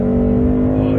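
Whipple-supercharged 2018 Mustang GT V8 with active exhaust, revving loudly and steadily up close in a strong sustained drone, with speech audible alongside.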